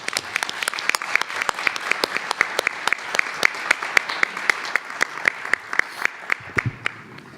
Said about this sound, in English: please join me in one more round of applause for our student scholars and our teacher honorees tonight